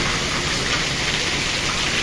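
Heavy rain falls in a storm as a brief, continuous roar at steady loudness, with no distinct thunderclap and no voices.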